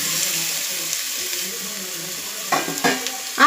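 Onions softened in a pan sizzle steadily as crushed radish goes in for a radish sambar, with a few louder clatters of the stirring spoon near the end.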